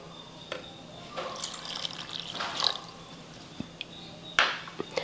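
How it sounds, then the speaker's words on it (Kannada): Water poured from a cup into ground rice batter for rice papad (akki happala), a soft, fairly quiet trickle and splash with a few drips and clinks, sounding close by with no talking. "ಈಗ ಇದಕ್ಕೆ ಇನ್ನೊಂದು ಕಪ್ ನೀರು ಹಾಕ್ಕೋತೀನಿ ನೋಡಿರಿ."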